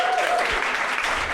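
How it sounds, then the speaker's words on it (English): A live radio show audience claps together in a brief, dense burst of applause that holds steady from start to finish. "Another round of applause."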